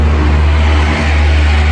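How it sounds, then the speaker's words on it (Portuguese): Loud cars pass on a street, a heavy, steady low engine roar and rumble that stays strong and unbroken, close and dominant. "Você viu passar um monte de carro na rua fazendo maior barulho hoje?"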